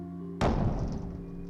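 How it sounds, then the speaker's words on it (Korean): In the horror game Her World, a door slams shut on a room with a red handprint: one sudden, heavy bang with a short reverberant tail over a low steady hum. "쾅 하고 문이 닫히더니"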